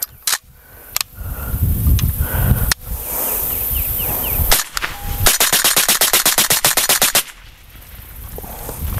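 Ruger Mini-14 rifle bump firing outdoors: a few loud single shots, then a long rapid burst of sharp cracks in quick uneven succession, close and loud, with no voices.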